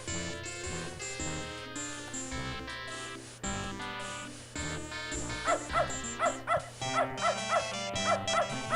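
Dog barking in the game Beneath a Steel Sky, a run of short, sharp yips and barks repeating in a quick rhythm over background game music.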